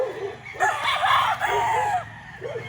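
A white Kelso gamefowl rooster crows at a gamefarm breeding and conditioning pen, one long, loud, close crow followed by softer clucking calls.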